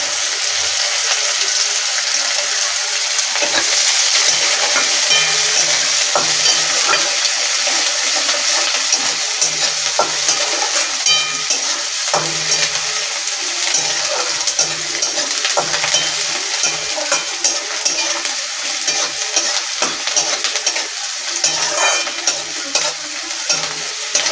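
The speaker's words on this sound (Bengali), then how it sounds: "পেঁয়াজটা দিয়ে ভালো করে ভেজে নেব লাল লাল করে" Chopped onion sizzles steadily in a pan for the full stretch, a loud continuous frying hiss broken by occasional scrapes and clinks of a spoon stirring, with no voices.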